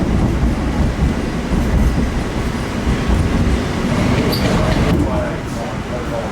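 An airport rail train at JFK rolls into a terminal with a steady loud rumble and rail clatter, brakes hissing faintly near the end, heard from inside the car.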